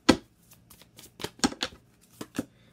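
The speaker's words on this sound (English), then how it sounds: "let's get one more shuffle" Tarot cards are shuffled close up in a quiet room, a quick series of crisp riffling snaps and soft papery flicks with brief gaps between them.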